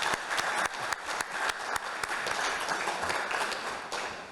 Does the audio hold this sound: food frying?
no